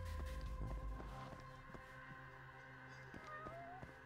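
A cat in Judge Eyes gives a soft, brief meow near the start, faint and quiet over a low game ambience with background music.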